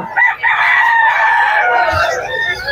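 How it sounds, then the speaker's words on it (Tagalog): Several roosters crowing loudly and close, their long calls overlapping into a continuous chorus with some clucking underneath. "Napakadaming manok ata ngayon."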